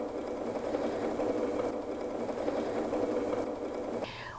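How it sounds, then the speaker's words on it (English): A sewing machine winds a bobbin with a steady, even motor whir running close and alone for about four seconds, then cutting off abruptly near the end. "So I'm going to press start, and the bobbin will continue to wind."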